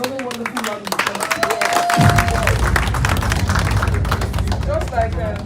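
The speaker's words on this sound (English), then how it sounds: "Please give them another wonderful round of applause." Dense applause from a crowd at a committee hearing swells in and keeps going steadily, loud and close, with a voice over the start before the clapping takes over.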